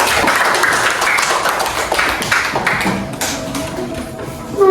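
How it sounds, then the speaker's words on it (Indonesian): A classroom of students claps for a classmate named Arjuna during an Indonesian lesson, a loud burst of quick, dense hand claps that thins out toward the end. "kasih tepuk tangannya untuk Arjuna"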